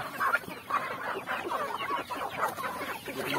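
Farm chickens cluck repeatedly and close by, in an irregular, continuous chatter of overlapping calls from several birds.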